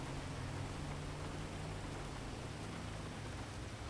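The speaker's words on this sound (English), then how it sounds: "Something about sure. feeling the rain on the skin." Dense, even rain pouring down in the video game GTA 5, a constant broadband hiss with a low rumbling undertone, heard alone without talk.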